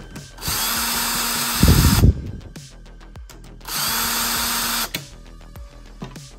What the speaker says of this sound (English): I'm gonna use a drill to make it faster and just remove them really quickly.